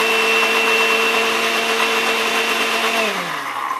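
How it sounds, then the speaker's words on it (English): A kitchen blender whirs loudly and close by with a steady high motor whine, then slows and winds down near the end. "Go ahead, hit the blender."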